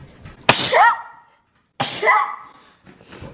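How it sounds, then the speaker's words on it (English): Two sharp, explosive sneezes close to the microphone, about a second apart, each followed by a brief voiced tail, with a faint breath afterward. "Oh, I'm gonna sneeze."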